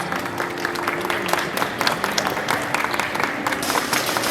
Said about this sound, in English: I hope you all will encourage her with a huge round of applause first.